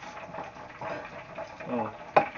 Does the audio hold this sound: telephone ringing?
no